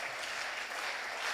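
An audience at a school substance-use prevention event applauds students, a brief, dense burst of continuous clapping.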